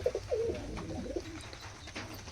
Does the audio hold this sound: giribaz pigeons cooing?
yes